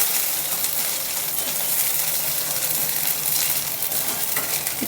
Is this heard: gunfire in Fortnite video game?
no